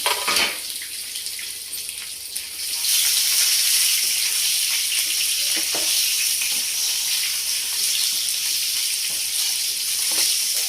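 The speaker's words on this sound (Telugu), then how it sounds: "వంకాయలు దీంట్లో వేసుకున్నాయండి" Brinjals for a stuffed gutti vankaya masala dish fry in hot tempering oil, a steady close-up sizzle that swells louder after the first few seconds and hisses on continuously, with occasional faint stirring ticks and no talk.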